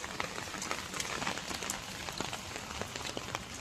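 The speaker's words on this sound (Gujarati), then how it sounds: "વરસાદ પડી રહ્યો છે." Heavy rain falls steadily in a village, giving a continuous, soft patter of drops on surfaces. The sound is quiet and fairly distant, with no talking.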